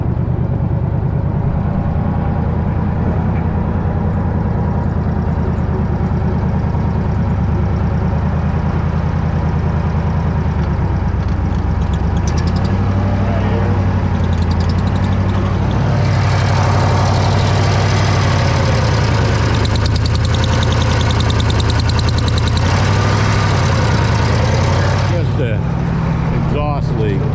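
A Bobcat 600 skid steer's engine with an exhaust leak runs steadily under load, a loud, continuous low rumble with a rough ticking edge that holds for nearly half a minute.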